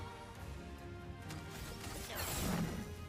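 A ground smash attack in Clair Obscur: Expedition 33 lands as a heavy crashing impact with a burst of debris, rising over a background of game music and effects, with no voices.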